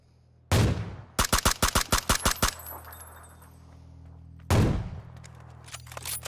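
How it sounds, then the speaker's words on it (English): Video game gunfire from several enemies at once: a sharp opening shot, then a rapid burst of about eight cracks, a quieter stretch and another loud shot, with faint scattered clicks near the end and no talking. "All four of them were shooting at me."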